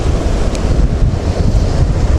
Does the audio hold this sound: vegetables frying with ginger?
no